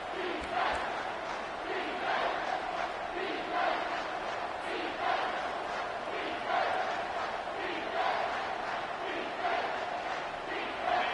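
A packed football stadium roars during a game, a loud and steady wall of crowd noise with rising and falling chanting surges that carries on without a break.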